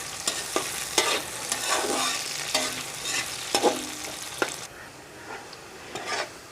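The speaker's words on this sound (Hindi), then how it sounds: "अब इसमें डालूँगी मैं प्याज। इसको अच्छी तरह ब्राउन करूँगी" Onions fry in a pan for aloo matar pulao with a steady sizzle. A spoon scrapes and stirs them at intervals, and the sizzle fades down in the last couple of seconds. No voices are heard.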